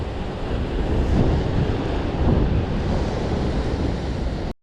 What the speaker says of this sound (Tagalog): malakas ang alon, mataas pa yung alon